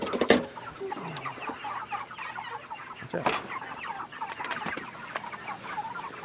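Chickens cluck and squawk on a farm with green grass, several birds calling in a busy, overlapping chatter with a few louder bursts, and a person speaks briefly near the start.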